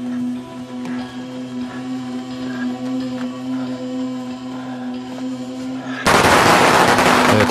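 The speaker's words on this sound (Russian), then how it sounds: "Это фейерверк." Fireworks go off in a scene from The Walking Dead season 6, a dense, loud crackling burst erupting suddenly near the end after a steady droning hum with faint background sounds.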